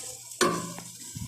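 Food being sautéed in a pan gets a single quick stir, a sharp scraping swish over a faint background sizzle, followed by a small clink.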